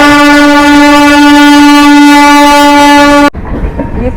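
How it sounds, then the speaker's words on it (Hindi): Kumbh Mela special train on an Indian railway line, a loud, steady horn-like harmonic drone from the passing train that holds for about three seconds, then cuts off abruptly into rumbling wheel and track noise. "ये कुंभ मेला स्पेशल ट्रेन यहाँ पे निकल रही है"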